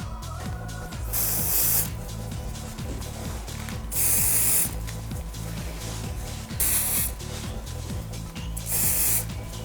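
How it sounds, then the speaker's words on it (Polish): Volumizing hair spray hisses at the roots in several separate bursts, each a loud close spray lasting about a second, with a low mechanical drone underneath. "proponuję zaaplikować preparat dodający objętości i odbijający włosy od nasady."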